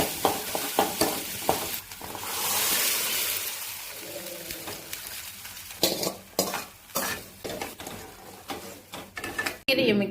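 Onions, dried red chillies and curry leaves frying in a pan, with steady sizzling and repeated scraping and stirring strokes of a spoon, close and fairly loud, some louder clattering knocks near the end.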